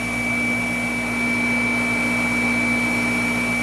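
A Shark NV752 upright vacuum cleaner runs steadily on thick pile carpet, its motor giving a loud, constant whine with sharp tonal hums and airy suction noise throughout.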